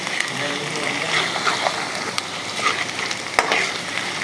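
Onions softening in a hot pan for a smoky phali dish give off a steady, close sizzle and crackle. A few scrapes of stirring and small sharp clinks sit on top, with no voices.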